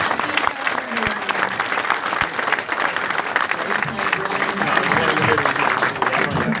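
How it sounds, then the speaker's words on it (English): Steady, dense applause from the audience at a speedway team press conference fills the room for several seconds, with scattered voices and chatter underneath. "Let's give a big round of applause for this man"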